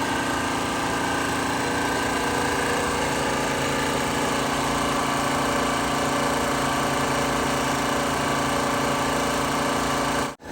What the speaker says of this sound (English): We're having a compressor out here.